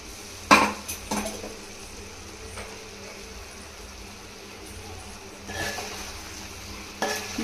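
Chicken pieces with masala fry in a pan, a soft steady sizzle underneath while a spoon stirs and scrapes, with a few sharp metallic clinks against the pan.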